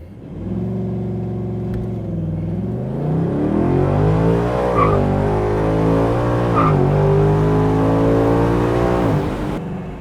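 A naturally aspirated V8 in a 2024 Ford Mustang GT revs loudly and steadily, rising and falling in pitch with deep rumbling harmonics, close and continuous throughout.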